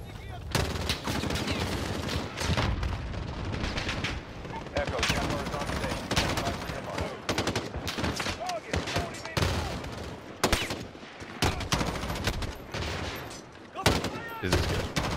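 Gunfire in the video game Call of Duty: Modern Warfare: dense, rapid automatic bursts and single cracks, loud and close, nearly continuous, with voices mixed in beneath the shooting.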